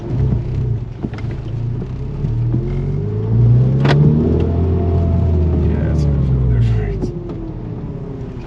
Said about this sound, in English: Sounds like the engine sounds different right there. The whining.